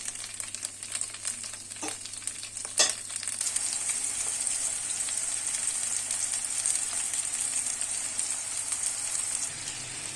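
Anchovies arranged in a frying pan sizzle steadily for hamsi tava, a dense crackling hiss like rain with a couple of sharp clicks early on, continuous and without talk.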